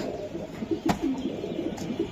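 A grizzle racer pigeon gives soft, low coos in a short run of gentle rolling calls, close by and fairly quiet over light background noise, with one sharp click partway through.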